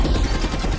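Rapid gunfire from a film soundtrack rattles in a dense, loud burst of overlapping shots, with no talking.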